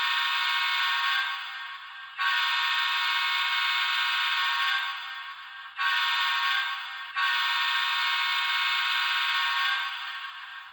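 An Athearn Genesis ES44AC model locomotive's sound decoder sounds its horn in several long sustained blasts with brief gaps between them, loud and close, with no voices.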